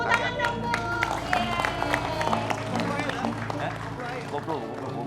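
Studio audience on an Indonesian TV variety show clapping for a contestant: steady, dense applause lasting the whole stretch, close and fairly loud, with crowd murmur, voices and some tonal background sound mixed in.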